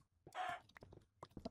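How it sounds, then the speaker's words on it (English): A chicken in the Minecraft video game gives a brief clucking squawk at low level, followed by faint scattered game sounds. "Goodbye, chicken."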